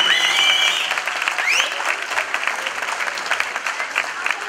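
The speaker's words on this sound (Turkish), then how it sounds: "Alkışlar yükseliyor" Wedding guests applauding the bride in a banquet hall, loud dense clapping that stays strong throughout, with brief whistles and a bit of voice layered in at the start.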